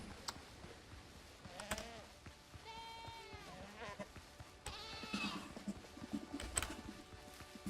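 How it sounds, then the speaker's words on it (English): Goats in the video game Windrose give several wavering bleats, one around the middle and a louder cluster later, over faint clicking and low background sound. "Goats."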